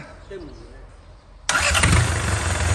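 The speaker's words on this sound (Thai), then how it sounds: "โอ้เสียงเครื่องก็ดีนะวะ" After a quiet moment an engine cranks and bursts into life, then settles into a loud, steady idle close by.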